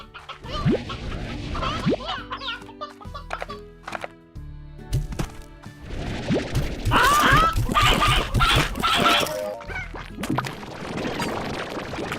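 Stony hens in Slime Rancher cluck and squawk repeatedly in a busy, lively cluster, mixed with game thumps and clatter, loud and close throughout.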